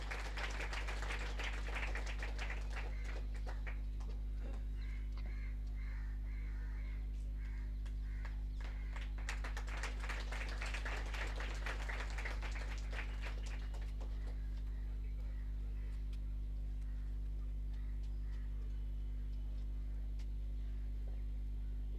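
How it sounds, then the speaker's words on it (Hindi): A crowd at a U.P. Police passing-out parade in Lucknow claps for a cadet, with sustained applause over a steady electrical hum that thins out after about fifteen seconds. "तालियों के साथ इनका अभिनंदन हो।"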